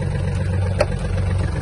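A Yanmar EF-222 Japanese mini tractor engine runs at a steady low idle, a continuous close rumble with one brief click in the middle and no talk.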